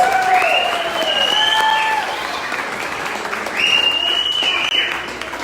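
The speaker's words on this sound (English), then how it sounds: "let's give them a quick round of applause" A crowd at an Oktoberfest event applauds loudly and continuously, with whoops and cheers rising over the clapping.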